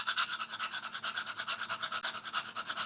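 A voice imitates a rhythmic breathing pattern in the style of certain Bollywood songs, sounding as fast, even, panting huffs repeated steadily and close, with no other sound around them.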